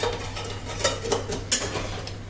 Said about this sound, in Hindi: तो अब इसको एक बार हिलाकर